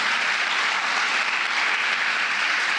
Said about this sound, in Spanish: Ese aplauso a Cristo.